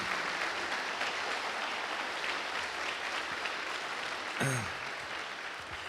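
A church congregation applauding, dense and continuous clapping filling the space at an even level, with a brief tonal voice or shout rising near the end.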